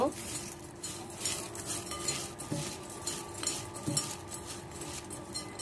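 Spice mix being stirred with chanachur in a bowl for jhal muri, with steady close scraping and light clinks of a spoon against the bowl throughout.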